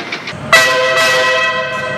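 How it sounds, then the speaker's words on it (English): A train rumbles past and sounds its horn, a loud, sustained blast that starts abruptly and holds for well over a second, close and dominant. "With this sound, the train beckons for our return back to the city."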